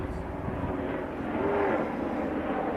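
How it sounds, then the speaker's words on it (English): A distant helicopter drones steadily overhead, a continuous engine rumble filling the background throughout. "The helicopters around here."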